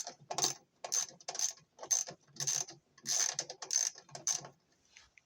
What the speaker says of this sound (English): All you gotta do is take a 10mm ratchet and just loosen it up.